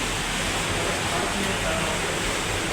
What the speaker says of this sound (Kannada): ಅಲ್ಲಿ ಫಿಲ್ಟ್ರ್ ಆಗಿ ಇಲ್ಲಿ ಬರ್ತಾವ ನೋಡ್ರಿ ನೀರು.